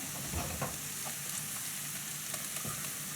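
Chopped onion frying in oil in a pan, a steady soft sizzle with occasional crackles and light stirring, fairly close and constant, with no voices.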